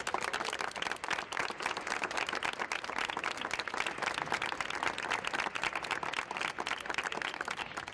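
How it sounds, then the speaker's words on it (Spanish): A crowd gathered outdoors at a memorial tile ceremony applauds continuously, a dense, steady patter of many hands heard from a moderate distance for the whole stretch. "Así que vamos a aplaudir."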